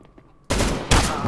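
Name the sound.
gunfire in a shooting video game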